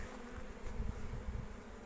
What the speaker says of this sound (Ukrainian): Бджола обсиджує повністю.